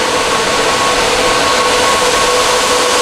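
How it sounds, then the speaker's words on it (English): Octominer X8 Ultra Plus mining rig fans spinning up at boot, a loud, steady, close rushing roar with a faint constant whine running through it. "You'll usually get this high spin right here when the Octominer first boots up"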